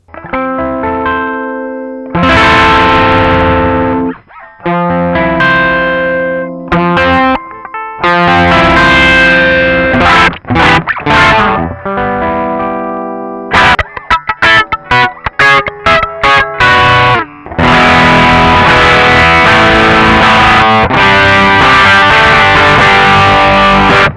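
Electric guitar played through a Fulltone OCD overdrive pedal, moving between chords and riffs with crunchy, saturated distortion, loud and close, with brief pauses between phrases and a fuller, denser section near the end.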